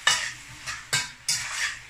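Squid sautéed in a pan for squid adobo: four quick scrapes of a utensil stirring against the metal pan, each with a short sizzle, close and fairly loud with no talking.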